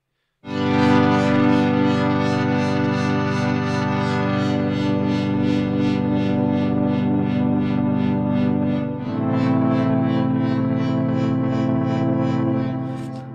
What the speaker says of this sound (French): Pour ce genre de son assez métallique, moi j'aime bien la reverb à plaque.